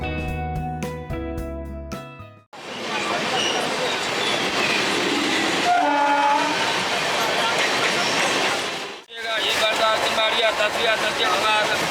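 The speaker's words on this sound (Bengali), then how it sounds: "এইমাত্র আমাদের ট্রেন চন্দননগর স্টেশনে ঢুকেছে" The Mithila Express passenger train, heard from a general coach, rumbles along steadily with rattling carriages and wheel noise, close and loud, after a brief burst of other sound at the start, near Chandannagar station.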